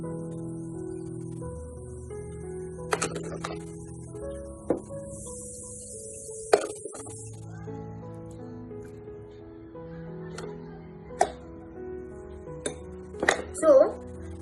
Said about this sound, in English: So first we have to put ice cubes in 1 glass.